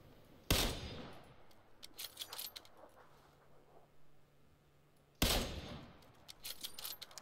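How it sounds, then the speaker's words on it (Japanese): Gunfire in the battle-royale game PUBG: two sharp, loud shot bursts several seconds apart, each trailing into a scatter of quieter follow-up reports, with faint ambient rumble between. "後ろで銃声聞こえたな。"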